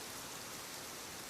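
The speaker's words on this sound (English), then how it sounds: "Rain began to fall softly again, dripping from the leaves and onto the stone pathway." Soft rain pattering steadily on leaves and a stone pathway, a faint, even hiss with no other sounds.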